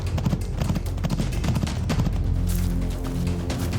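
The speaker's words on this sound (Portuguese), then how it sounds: "os guardas e o servo galoparam para alcançar os irmãos" Horses gallop in a fast, dense patter of hoof strikes that runs continuously and loudly throughout, with no voices.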